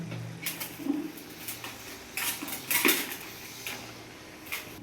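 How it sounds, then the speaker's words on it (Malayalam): Cassava with chopped coriander leaves being stirred in a pot: soft, irregular scrapes and clinks of a spoon against metal, a few louder knocks, quiet and close, with no talking. "ഇനി ഒന്ന് ഇളക്കാം"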